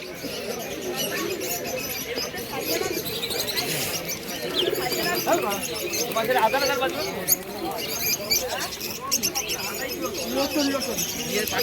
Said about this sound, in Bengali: কিছু ফেন্সি পায়রার কালেকশন আপনাদের কাছে সব করাচ্ছি